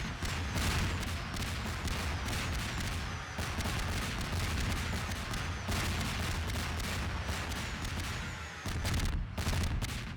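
Rapid automatic weapon fire from a mini drone platform in Garry's Mod, a dense, continuous barrage of shots with brief pauses near the end, steady and loud throughout.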